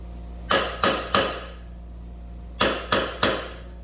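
Hammer strikes on a fully seated front wheel bearing of a DRZ 400 motorcycle, two quick bursts of three flat, dull knocks, close up.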